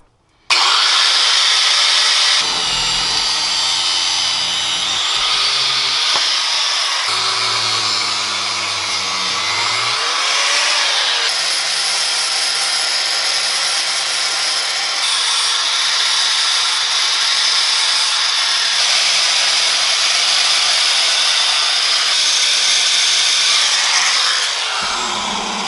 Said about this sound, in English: I'm gonna cut it off, grind it down flat, throw some paint on it.